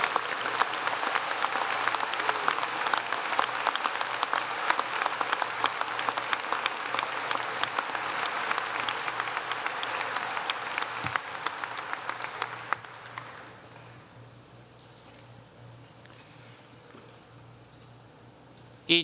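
The commencement audience at a 2024 undergraduate ceremony applauds, a broad, sustained roar of many hands that holds for about twelve seconds, then thins and fades into quiet room tone.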